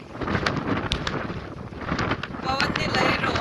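Strong gusting wind on open water during a boat outing under dark rain clouds, roaring and buffeting the microphone steadily throughout with some splashing.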